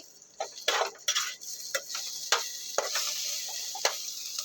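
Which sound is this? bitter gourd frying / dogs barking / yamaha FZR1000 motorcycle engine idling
bitter gourd frying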